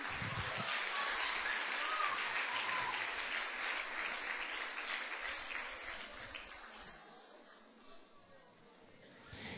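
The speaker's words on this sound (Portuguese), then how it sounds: "Uma salva de palmas para o Senhor Jesus" A church congregation applauds with a dense, sustained burst of clapping from many hands. The noise is fairly distant and gradually thins out, and faint voices mingle with it.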